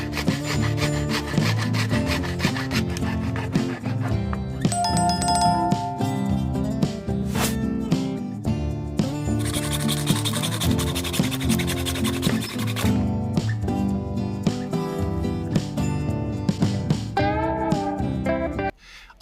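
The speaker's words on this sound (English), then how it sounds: "I'll smooth out any rough edges with a saw and then proceed to sand them down." Plastic bottlenecks fixed to a wooden board are sawn and then sanded, giving continuous close rasping and scraping strokes with a steady rhythm throughout, partly overlaid by tonal ringing.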